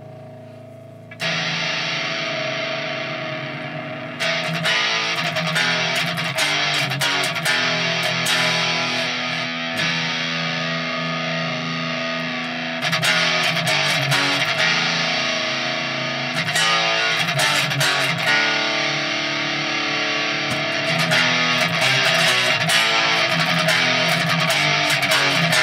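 An electric guitar played through a Suhr Riot distortion pedal rings out in loud, sustained distorted chords that are restruck every few seconds, heard alone and up front.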